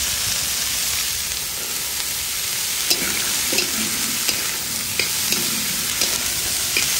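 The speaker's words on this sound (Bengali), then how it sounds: "এটা একটু ভালো করে ভেজে নেব। আর এখানে দিয়ে দিচ্ছি এই যে কড়াইশুঁটি।" Fried rice with green peas and beans stirred in a wok, a steady close sizzle with scattered scraping clicks of the spatula against the pan throughout.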